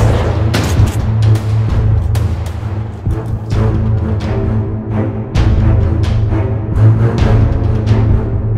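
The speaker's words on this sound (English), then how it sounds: "Massive shots fired." Heavy gunfire from a GTA San Andreas multiplayer roleplay shootout: dense, loud volleys of booming shots, some overlapping in rapid bursts, others spaced apart, continuing for several seconds with no talk.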